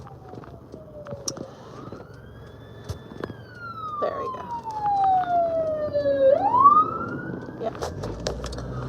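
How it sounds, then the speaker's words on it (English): An ambulance siren passes a driver pulling over after work, its wailing tone sweeping down and up as it nears and goes by over road noise, with a voice speaking briefly. "ambulance coming by."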